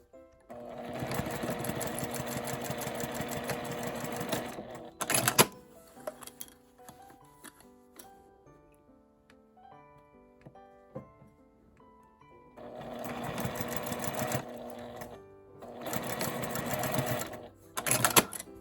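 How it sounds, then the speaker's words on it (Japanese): A sewing machine stitches a 1 cm seam allowance on a fabric document case, running in long, close bursts with a quieter stretch of soft ticking and handling noises between them. "内側が表になるようにして端から3センチずつ1センチの縫い代で縫います。"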